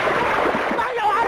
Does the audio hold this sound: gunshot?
no